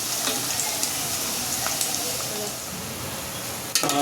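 Onion, coconut and tomato masala frying in oil for a village-style egg curry, giving a steady close sizzle throughout with a brief clatter near the end.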